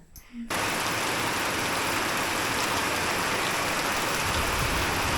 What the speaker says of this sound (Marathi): सकाळपासून रिमझिम रिमझिम पाऊस चालूच आहे